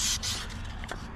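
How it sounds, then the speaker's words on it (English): Hand sanding around the edges of a Heritage Rancher .22 revolver carbine part with 220 grit sandpaper, a couple of brief, close, raspy strokes. "just hand sand around the edges of that because I don't want to mess up."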